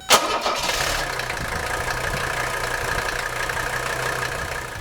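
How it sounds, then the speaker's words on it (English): An old Mercedes-Benz diesel engine cranks briefly and fires right up, then settles into a steady, loud, clattering idle that runs for several seconds with no voices. "There's nothing like an old diesel that starts right up when you hit the key"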